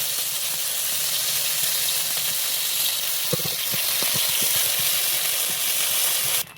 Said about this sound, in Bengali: আদাটা একটু ভেজে নিয়েছি